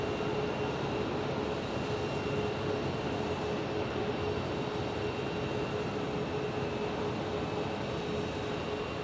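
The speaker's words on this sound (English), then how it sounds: "Max 8 for Southwest Airlines in the house" A Southwest Airlines Boeing 737 Max 8 at Phoenix Sky Harbor gives a steady, fairly faint, far-off jet roar that holds an even level throughout with no breaks.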